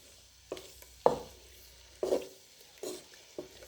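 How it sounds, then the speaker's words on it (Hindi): Chopped onion frying in ghee in a pan, with a few separate scraping stirs at roughly one-second intervals over a soft steady sizzle, close and fairly quiet, no talking. "1 से 2 मिनट के लिए फ्राई करेंगे।"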